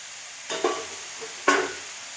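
Tomato chutney being stirred in a pan, two short scraping strokes of a spoon about a second apart, close and fairly soft against near silence.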